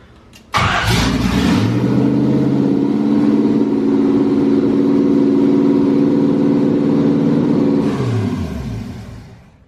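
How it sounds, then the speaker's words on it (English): A Jeep CJ7 engine cranks and catches, then runs loud and rough at a steady idle close by for several seconds before shutting off and winding down. "damn, that motor's loud"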